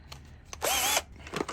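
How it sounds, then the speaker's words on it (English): A wire brush spins in a Forte cordless drill in one short whirring burst of under half a second, rising and then settling, with faint clicks and handling noise on either side. "I will be putting it in the drill. In the old Forte Amazon drill."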